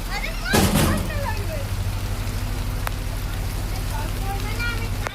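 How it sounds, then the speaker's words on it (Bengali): Steady rain hissing and pattering throughout, with a brief louder rush near the start and faint bird chirps in the background. "এই যে দেখুন বৃষ্টি পড়ছে কেমন"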